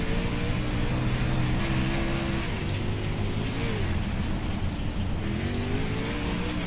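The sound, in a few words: modified race car racing on dirt track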